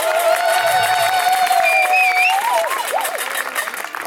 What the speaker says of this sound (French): Et ça, on peut aussi les applaudir.